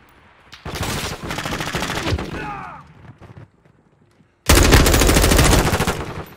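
M4 rifle fire in Call of Duty Modern Warfare 2 multiplayer, two loud sustained full-auto bursts separated by a brief quieter pause, close and punchy.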